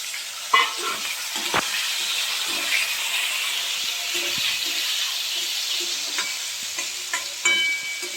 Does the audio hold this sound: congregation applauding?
no